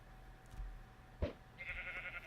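A sheep in Minecraft Feed the Beast gives a brief, quiet bleat amid low game ambience, with a soft click or thud of gameplay just before it.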